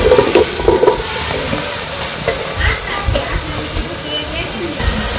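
Hilsa fish heads fry in a pan, giving a steady, close sizzle and crackle that runs throughout with small stirring surges.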